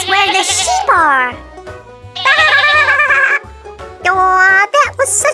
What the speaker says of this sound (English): this is where the sheep are